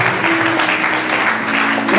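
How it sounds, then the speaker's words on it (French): A conference audience in Kinshasa claps steadily, a brief burst of dense applause with some crowd noise mixed in. "Applaudissez très fort pour la parole."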